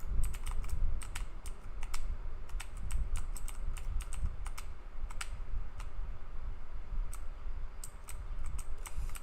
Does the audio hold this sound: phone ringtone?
no